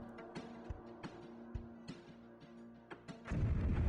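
Siege cannon firing in the space strategy game Homeworld: Cataclysm, a series of sharp thumping shots over a steady electronic hum, ending in a louder, rumbling burst.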